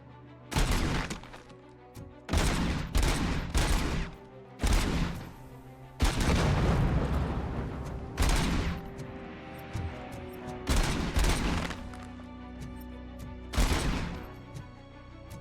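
Repeated loud gunshots from RoboCop Rogue City, about seven heavy blasts spaced a second or two apart, each with a booming tail and ringing decay between shots, with no talk over them.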